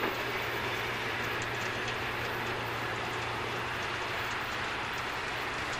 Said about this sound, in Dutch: En met deze D-trein gaan we Maastricht-Randwyck ook weer verlaten.